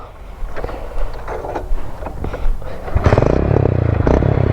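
A Hero Splendor motorcycle fitted with a new silencer starts up after some wind buffeting and scraping, then settles into a loud, close, steady low exhaust thrum.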